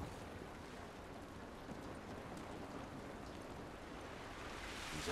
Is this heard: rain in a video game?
yes